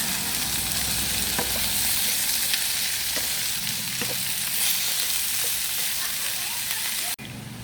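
Vegetables hit a hot frying pan while pancit is cooked, giving a steady close hiss and crackle of sizzling oil with scraping stirs throughout, cut off abruptly at the end.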